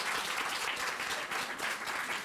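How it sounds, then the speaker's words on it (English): An audience applauds steadily, with a dense, even wash of many hands clapping at once and no voices heard above it. "we owe Ms. Griffin a round of applause"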